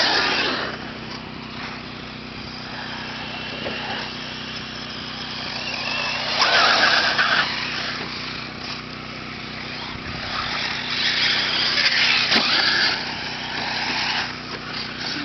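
Nitro engines of 1/8 scale 4WD RC buggies race on a track in Petal, Mississippi, their high buzzing whine swelling and fading as cars pass at a distance, with faint voices underneath.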